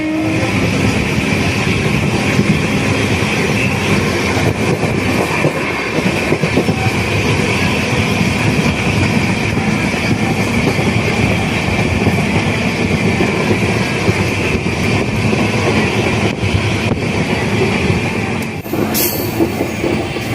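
A passenger train runs steadily along the tracks on the approach to Villupuram station in Tamil Nadu, a loud, continuous rumble of wheels and carriages with a faint metallic squeal near the end and no voices.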